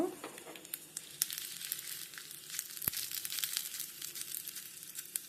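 Cumin and spices dry-roasting in a pan for temple-style rasam masala give a close, steady crackle and rustle, with faint scraping as they are stirred.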